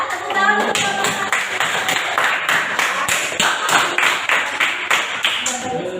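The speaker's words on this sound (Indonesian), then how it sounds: "Tepuk tangan untuk kelompok satu." Students in a school classroom clap for a group, a dense burst of applause from many hands that carries steadily for several seconds at close range, with some voices underneath.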